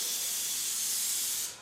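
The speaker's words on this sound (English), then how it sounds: "And we're going to spray the adhesive on." Spray adhesive hisses from an aerosol can onto a t-shirt for screen printing, one close, steady, loud spray burst that cuts off sharply at the end.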